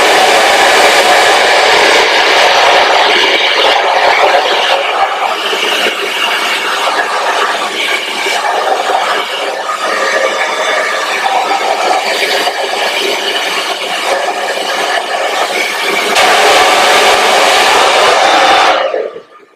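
A hair dryer runs steadily and loudly at close range while blow-drying curly, frizzy hair with a round brush, a continuous airy roar that holds for the whole stretch before cutting off at the end.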